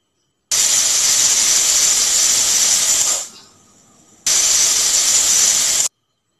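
A pressure cooker holding mutton curry on a gas stove blows a loud, close, steady hissing whistle of escaping steam, fades to a brief lull, then bursts out again just as strongly before cutting off.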